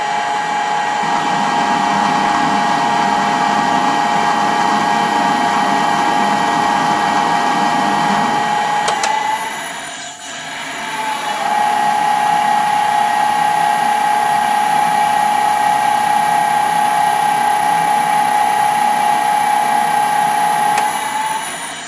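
A metal lathe takes a spring pass at the same depth on an ER32 collet adapter for a dividing head, a loud steady whine with cutting hiss, a brief dip midway, then continuing, no talk.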